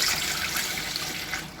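Three cups of measured water poured into a kadai for making idiyappam, a steady, full rushing splash throughout, close and loud with no talk.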